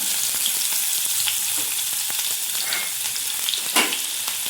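Chopped onion, mustard seeds and cumin crackle and spit in hot oil, with a steady fizzing sizzle and scattered sharp pops, one louder burst near the end, close by with no talking.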